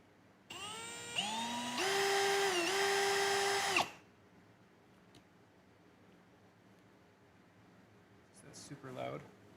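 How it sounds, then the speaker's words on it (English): A power drill whirs loudly and close for about three seconds while assembling a clear ice maker, its pitch briefly rising and dipping as it spins, and then it stops abruptly, followed by near silence and a faint squeak. "I might be able to even just do this in the drill."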